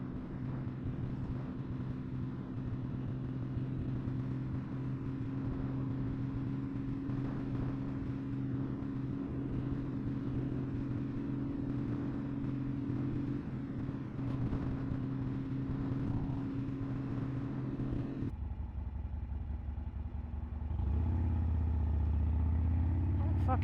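A motorcycle riding on the road, a steady engine drone with wind rush running the whole time and a sudden drop in tone near the end, under a rider's talking.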